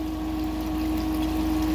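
Steady flow of spin water running through a Gold Drop gold concentrator handling very difficult material, a continuous pump-like hum with a strong steady tone and wash of liquid, close and unbroken with no talk.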